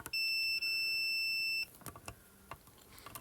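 Shrill electronic beeping from PS5 HDMI port repair test equipment, a steady tone of about one and a half seconds with a brief dip, loud and close, followed by light handling clicks.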